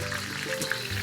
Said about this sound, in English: we're getting a nice sizzle